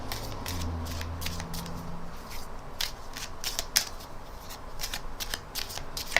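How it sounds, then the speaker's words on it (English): Rapid riffling of playing cards being shuffled, repeated bursts of flapping snaps close by, with no talking. "The magician asks them to get a pack of cards and then to give them a shuffle."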